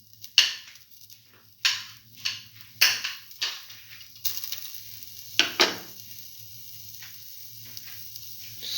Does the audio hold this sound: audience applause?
no